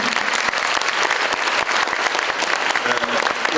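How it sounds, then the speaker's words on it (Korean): An audience at a university debate competition final gives brisk, loud applause as a judging professor is introduced, a dense burst of clapping from many hands close by. "박수 부탁드립니다."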